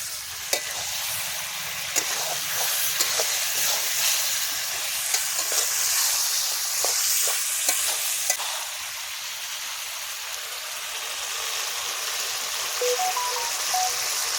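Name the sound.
stir-frying chicken kosha in a pan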